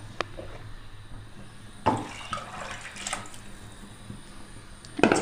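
Water poured from a vessel into a pot of masala dal tadka in a home kitchen, a soft steady splash with a few sharper bursts over a faint background hum, close and fairly quiet.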